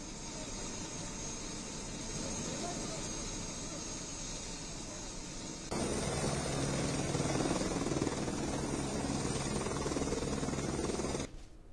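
Rescue helicopter flying over a flood-hit Himalayan valley in Uttarakhand after a cloudburst, a steady loud rotor and engine drone throughout that grows stronger midway, with no voices.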